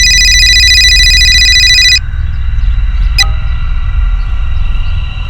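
A landline telephone rings loudly with a bright electronic bell tone for about two seconds, then stops, leaving a low background rumble and a brief click.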